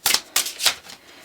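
A deck of tarot cards is shuffled by hand during a reading, heard as three quick, close, crisp riffles in succession, the last one trailing off, with no talking.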